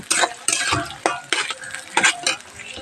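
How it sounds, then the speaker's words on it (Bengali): Sliced onions frying in oil for a Bangladeshi duck curry, with rhythmic scraping strokes of a spatula in the pan over a sizzling hiss, about five or six stirring bursts close up. "পেঁয়াজগুলো বেশ সুন্দর করে ভাজা করে নেব"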